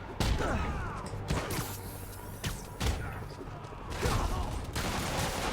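Enemy gunfire in a Spider-Man video game, with dense bursts of shots and crashing impacts over game music and effects, loud and busy throughout.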